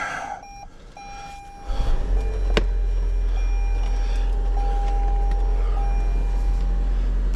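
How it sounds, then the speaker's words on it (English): A Toyota Sienna starts up: a brief cranking burst gives way to a steady low engine idle, while electronic chime tones ring on and off over the running motor, close and fairly loud. "We turn on the car."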